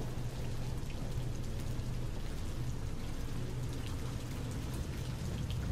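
Steady, dense rainfall from the video game Rain World: Downpour, a continuous close hiss of drops with a low rumbling undertone and no pauses.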